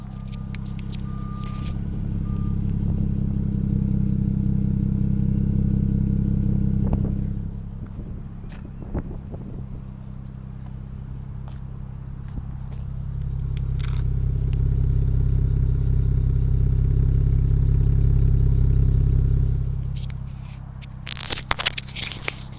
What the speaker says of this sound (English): We can check the dual exhaust pipes for how they sound.